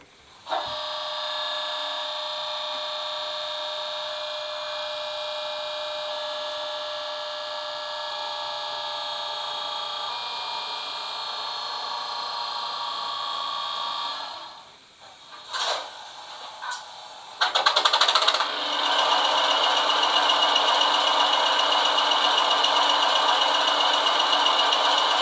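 A Bachmann Class 20 00 gauge model diesel locomotive with an ESU LokSound DCC decoder plays a steady loud engine drone, which dips briefly before revving up to a harsher, louder idle.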